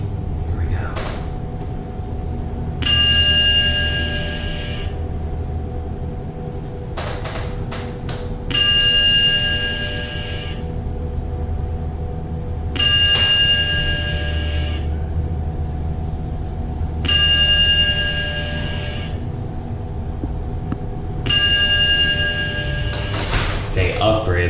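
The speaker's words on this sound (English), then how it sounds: "They upgraded the chimes," Upgraded chimes in a Schindler 3300 machine-room-less traction elevator in a parking garage, several clear multi-tone chimes at regular intervals over a low steady hum of the running car, with brief door clunks.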